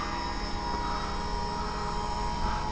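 Homebrew quadcopter drone hovering and flying, a steady dense whirring buzz of spinning propellers held at constant loudness throughout, close by and alone.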